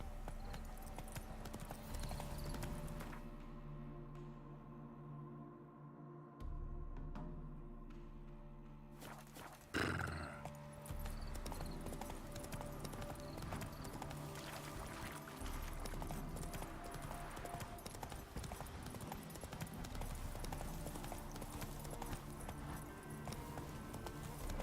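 Steady clip-clop of horse hooves at a gallop in The Witcher 3, rhythmic and continuous over a game soundscape, with a brief thump partway through.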